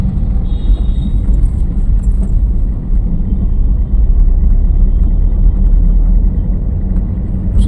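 A car pulling away during a driving lesson, with the learner easing off on the clutch; a loud, steady engine rumble with road noise continues throughout, close and without pauses.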